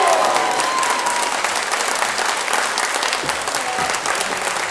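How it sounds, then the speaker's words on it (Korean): A hall audience gives sustained, steady applause for the alley garden choir after its performance opening a Gyeongbuk education forum for Cheongsong, Andong and Uiseong; dense clapping fills the whole stretch with no break. "골목길 정원 합창단에 다시 한번 박수 부탁드리겠습니다"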